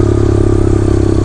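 Kawasaki KLX 110 pit bike with a 143cc big bore kit idling up close: a loud, steady, rapid thumping single-cylinder putter with mechanical clatter, continuous throughout without speech.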